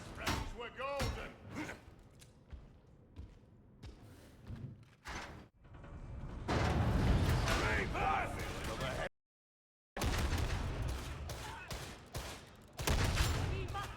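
Heavy gun bursts from a Ripper Gun wielded by an Ogryn in the Warhammer 40k Darktide co-op shooter, loud thumping volleys mixed with impacts and game noise, cutting out for a moment before firing resumes, with someone talking over it.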